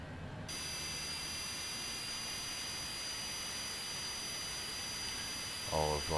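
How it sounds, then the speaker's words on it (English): Simulated jet engine of a Cessna Citation Longitude in Microsoft Flight Simulator 2020 spooling up after a start on engine two: a steady whining roar with high tonal lines, holding level throughout, with a voice talking briefly at the end. "We'll see that the engine is spooling up nicely."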